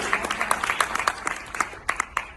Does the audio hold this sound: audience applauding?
yes